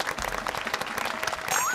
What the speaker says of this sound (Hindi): ये लोग, ये सब लोग तालियां क्यों बजा रहे हैं?